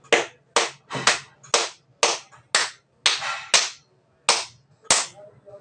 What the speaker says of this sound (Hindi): पहले आपको ताली ऐसे बजाना है